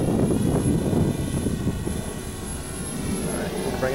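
A DJI Spark small quadcopter drone flying outdoors, its steady buzzing propeller whine continuous and fairly loud throughout, with a faint high tone above it.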